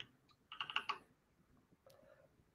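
Brief typing on a computer keyboard: a quick cluster of four or five close, crisp key clicks, then a single fainter tap after a short pause, in a quiet room.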